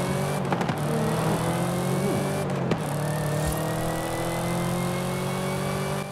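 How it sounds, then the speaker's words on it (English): Supercharged car engine in Forza Horizon 5 pulling hard under load, a steady loud drone with rising whine across the whole stretch and brief gear-shift breaks near the start and middle. "That supercharger that you hear as well."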